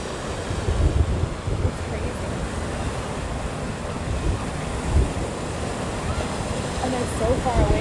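Ocean surf rolls onto a Southern California beach where surfers ride, a steady broad wash mixed with wind buffeting the microphone, with faint voices underneath.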